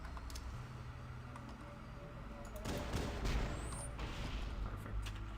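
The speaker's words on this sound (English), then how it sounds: "What a grenade." A grenade detonates in Halo: Combat Evolved, a sudden muffled boom with scattered debris crackle breaking over a low ambient game rumble, fading after a few seconds.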